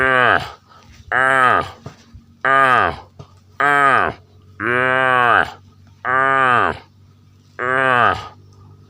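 A domestic water buffalo lows in repeated long calls, seven in all, each drawn out and loud at close range, separated by short pauses on a rural Indian farm, with no speech.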